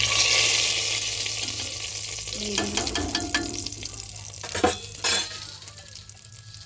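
Hot fried cumin tempering is poured into moong dal khichuri with papaya and lands with a loud hiss. Clinks of a spoon and stirring follow, along with a brief spoken remark.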